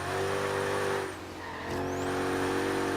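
Car engine roaring during a Forza Horizon 3 blizzard mountain snow race, steady and loud, dipping briefly as the car slides and skids before the revving engine climbs again.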